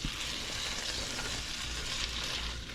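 Potatoes frying in a pan, giving a steady close sizzle with some stirring scrapes, fairly loud and unbroken for a few seconds.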